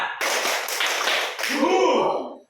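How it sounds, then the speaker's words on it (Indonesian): A group of people in a school training session claps in rhythm on a teacher's cue, dense overlapping hand claps filling the clip loudly and close, with a brief softer murmur near the end. "Oke, tepuk dua."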